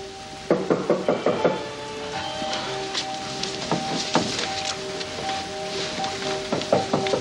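Knocking on a door: several bursts of quick, sharp raps, fairly close and clear, recurring through the stretch over a faint sustained background tone, with no talking.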